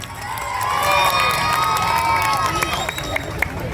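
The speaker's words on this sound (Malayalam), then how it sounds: "നമുക്ക് നല്ലൊരു കൈയടി വരും" A crowd at a furniture shop inauguration bursts into cheering and applause, loud and sustained, with shouts and voices mixed through the clapping.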